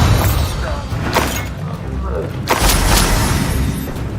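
Confringo explosive spell blasts in Hogwarts Legacy, a couple of sharp booming bursts over dense, continuous game noise and music, loud and close, with a voice speaking between them.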